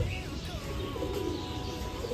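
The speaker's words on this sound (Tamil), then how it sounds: "புறா நல்ல புறா." Pigeons coo softly in an outdoor aviary at Rajali Birds Park in Thanjavur, low murmuring calls over faint background chirps and ambient noise.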